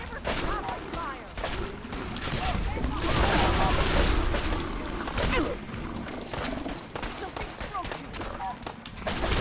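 Bursts of gunfire crackle from a Fallout 4 battle, rapid fusillades and scattered shots rising and falling over several seconds, mixed with growls and game clamor while people talk over the action.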